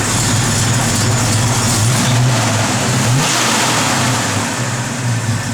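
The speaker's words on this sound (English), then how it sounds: "Car sounds just outstanding." A 1970 Ford Torino GT engine revs and rumbles loudly up close, rising and falling in pitch through a few throttle swells with no talking.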